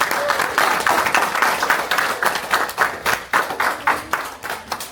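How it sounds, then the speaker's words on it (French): Applause from an audience at a live event: a steady wash of many hands clapping, dense and fairly close, continuing unbroken throughout. "Voilà, applaudissements"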